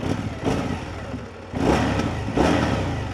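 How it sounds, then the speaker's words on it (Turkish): An Indian Scout cruiser motorcycle's V-twin engine revs in short repeated bursts close to the mic, three rising blips with a rough, throaty exhaust note and crackling pops between them, no talk. "Egzoz patlatıyor arada onu da söyleyeyim."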